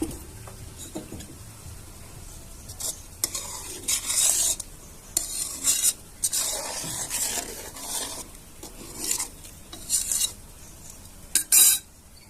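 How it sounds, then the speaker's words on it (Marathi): Grated coconut stirred into milk in a pan for a sweet, with a spoon scraping and knocking against the pan in irregular bursts, close and fairly loud, over a faint background hiss. "हा किस आपल्याला याच्यात घालून घ्यायचा आहे दुधामध्ये आणि आता हलवून घ्यायचं"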